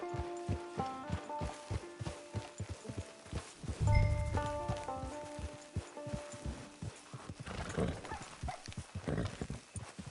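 A horse's hooves clop in a brisk riding rhythm in Red Dead Redemption 2, close and clear over musical tones, with a horse snort or whinny midway.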